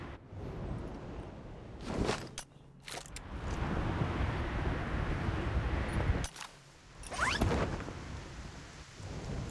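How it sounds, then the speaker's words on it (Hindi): Steady in-game rain pours throughout a Project Bloodstrike match at max graphics, broken by a few sharp, loud thunder cracks and rumbles, with brief quieter gaps between downpours. "चलो जी बारिश होने लगी है गेम में।"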